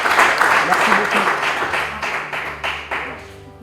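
Applause from an audience at a ceremony in Lubumbashi, with a burst of clapping that thins and fades over a few seconds while voices carry faintly beneath it.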